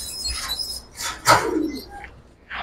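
A Kaldom pigeon coos softly in a few short, low throaty bursts, with faint chirps and rustling around it.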